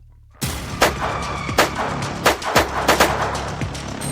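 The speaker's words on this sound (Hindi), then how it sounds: "इंदौर के रीगल स्थित पुलिस कंट्रोल रूम अचानक गोलियों की तड़तड़ाहट से गूंज उठा।" Gunfire sound effect: a burst of sharp, loud shots in quick irregular succession, with several heavy bangs and echoing cracks over a rumbling background, no voices.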